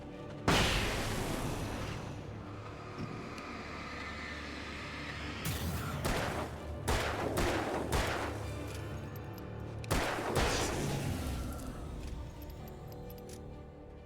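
Loud bright flash bursts and sharp gunfire in the Alan Wake video game, several distinct blasts with ringing decay, spaced across a dense rumbling game soundscape.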